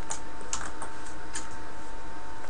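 Steady keystrokes on a computer keyboard while entering a truth-table formula in Microsoft Word, a rapid irregular patter of close clicks with no speech.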